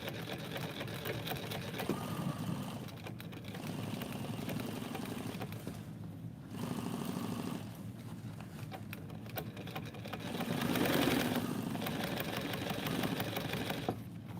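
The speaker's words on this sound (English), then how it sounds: "Now sew that top to that top." Sewing machine running in steady bursts as fabric pieces are stitched together, a continuous mechanical whir with brief pauses between runs, fairly close and alone without talk.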